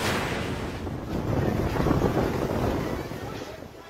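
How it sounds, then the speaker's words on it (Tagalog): Strong gusting wind roars into the microphone with a dense wash of noise like heavy rain hitting an outdoor night market in Davao City, swelling in the middle before easing slightly. "binayo ng malakas na hangin at ulan ang night market sa Davao City."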